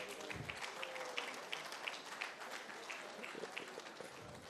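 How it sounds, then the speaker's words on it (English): A crowd applauds at a ministerial press briefing in Abuja, with continuous, fairly faint clapping from many hands heard at a distance and a few individual claps standing out from the dense patter. "can we make the applause a bit louder?"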